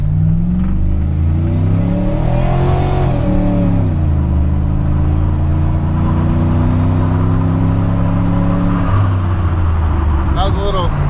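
A stock 4.8 V8 Chevrolet Silverado pickup engine revs hard through rising gears, the note climbing and dropping with each shift, loud and close, then settling into a steady drone.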